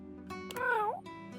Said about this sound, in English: It's meowing for his attention.